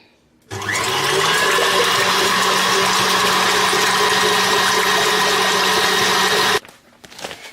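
An electric mixer whirs loudly and steadily for about six seconds while beating keto bread batter with cream of tartar in a bowl, starting abruptly and cutting off just as suddenly.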